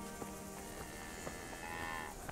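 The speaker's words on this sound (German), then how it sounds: "Das ist wie so eine penetrante Kuh." A cow lowing in the medieval village world of Kingdom Come: Deliverance, a faint, drawn-out moo rising and falling over soft ambient game sounds, with no talk.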